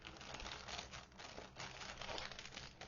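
Crinkly paper or plastic wrapping is peeled off a note inside a card game box, a close, fairly quiet stream of crumpling and tearing rustles for a few seconds with no voices.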